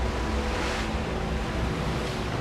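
Ocean waves wash chunks of glacial ice onto a tidal shore, a steady, loud roar of surf with wind noise throughout and no voices.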